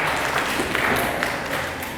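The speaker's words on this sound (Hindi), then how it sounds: "ताली बजाओ भाई सार्थक के लिए" Students in a polity class clap for a classmate, a brief dense patter of applause filling the room at steady loudness.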